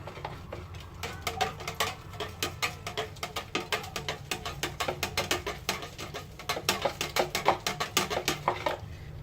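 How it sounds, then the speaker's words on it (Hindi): Spoon stirring jaggery pieces into water in a kitchen, a close series of quick rhythmic clinks and scrapes against the container, repeating steadily throughout. "अब इसको मैं स्पून से बहुत अच्छे से मिक्स करूंगी।"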